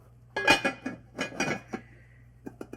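A metal lid set onto a pot of Bolognese sauce on the stove, a few close clanks and rattles in quick succession, then light taps as it settles, with no talking.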